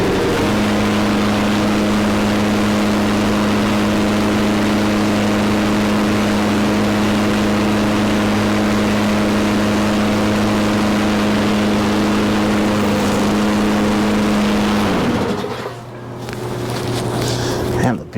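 A John Deere JS20 walk-behind lawn mower engine runs outdoors with a steady, loud droning hum at constant speed, then abruptly cuts out near the end, leaving quieter outdoor background noise.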